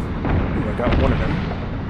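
A missile shot down and exploding in the combat flight game Nuclear Option, a loud, deep rumbling blast that swells and rolls on for the full two seconds, close and heavy.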